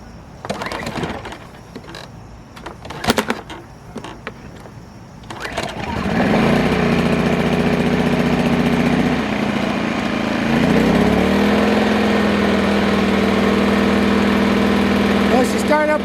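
A WEN 2000 inverter generator, new out of the box and set to eco mode, gets a few rattling pull-cord tugs before catching and settling into a loud, steady idle with a slight shift in pitch partway through.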